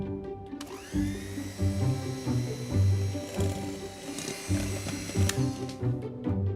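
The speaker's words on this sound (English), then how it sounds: "whisk until the mixture thickens to a lighter colour" Electric hand whisk beating eggs and sugar for a flourless almond chocolate cake sponge, a buzzing motor whine that surges and dips as the beaters move through the thickening mixture, close and alone.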